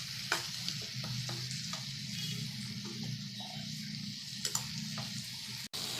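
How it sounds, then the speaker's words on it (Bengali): Tomato being stirred and fried in a pan for a potato curry, a faint steady sizzle with occasional light spatula taps and scrapes, close but quiet, no talking. "এর মধ্যে দিয়েই আমি টমেটোটা একটু নেড়ে নেবো,"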